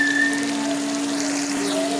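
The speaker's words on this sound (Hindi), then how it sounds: "2 से 3 मिनट तक अच्छे से भूनते हैं।" Chilli, turmeric and salt roasting in a pan for a vegetable dish, giving a steady soft crackle and sizzle, fairly close and continuous, with no talking.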